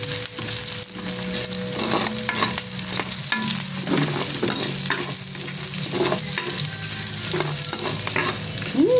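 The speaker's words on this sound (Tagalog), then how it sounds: "magsasatay na tayo ng garlic" Garlic sizzles and fries steadily in a hot pan as it is stirred for lugaw, a continuous close crackle with scraping stir sounds and no talking.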